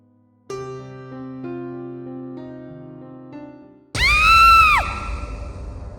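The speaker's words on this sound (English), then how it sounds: "woke up hearing the scream of a woman and the cry of a baby outside" A woman's sharp, high scream bursts out suddenly after a stretch of quieter tonal sound, loud and sustained for about a second before fading.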